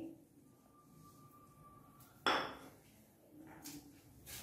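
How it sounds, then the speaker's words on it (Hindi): Yogurt goes into an open pan while chicken is marinated for Pakistani chicken tikka: one sharp clatter of a utensil on the pan near the middle, set against quiet kitchen ambience and a thin steady tone before it. "मैंने एक ये खुला बर्तन लिया है, पैन। अब इसके अंदर मैं सबसे पहले दही शामिल करूंगी"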